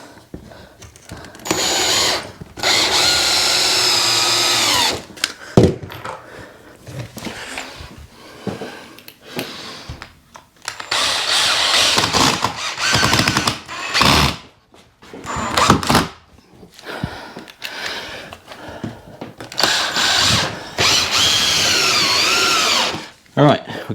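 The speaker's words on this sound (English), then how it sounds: "stick a few screws in there" A power drill drives screws into the wood of a garden shed, several loud whirring bursts of a few seconds each separated by pauses, close up, with someone talking in between.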